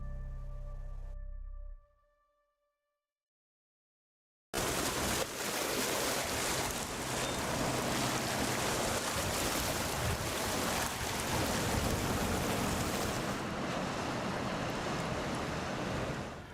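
Water at the bank of the Rhine river, a steady washing, rushing noise with wind gusts, loud and continuous after a brief tone and a few seconds of silence at the start.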